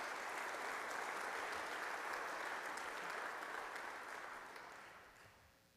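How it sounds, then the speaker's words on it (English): Audience applause after a talk at a swine industry event, a dense, steady wash of clapping from a large crowd that holds for several seconds then gradually fades out. "we can give him a round of applause while we're waiting for any questions"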